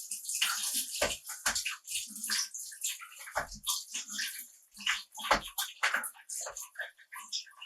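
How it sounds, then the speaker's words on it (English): Tap water runs and splashes in a kitchen sink during a quick hand wash, with uneven bursts and some faint low knocks against the basin. "I'll just quickly wash my hands."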